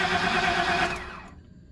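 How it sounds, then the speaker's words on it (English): An electric fuel pump inside the tank of a 1997 GM truck with a 5.7 engine that cranks but won't start cold hums with a steady whine, then winds down and fades within a second or so. "I hear the pump running in the tank."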